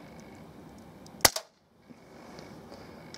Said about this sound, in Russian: Стреляю по этим сосулькам.